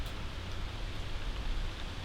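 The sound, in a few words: wind and rain outdoors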